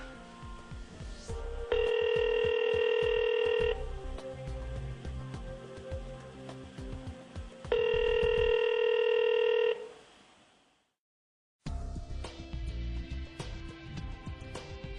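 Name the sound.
telephone dial tone on Yeastar MyPBX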